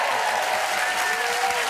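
Studio audience applause on a talk show, a dense steady wash of clapping filling the room, loud and continuous throughout.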